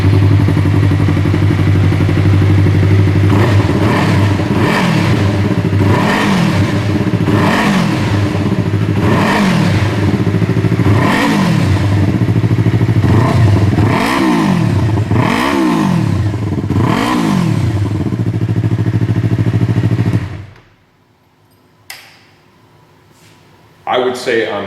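A 2015–2020 Yamaha R3 motorcycle with an Akrapovic slip-on exhaust idles loudly and is revved repeatedly, about a dozen rising and falling throttle blips in steady rhythm before the engine cuts off into near silence.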